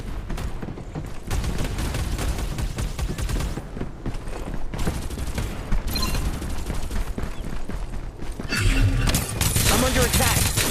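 Rapid gunfire rattles through a Farlight 84 firefight in bursts and sustained volleys, loud and close, with game effects and impacts mixed in.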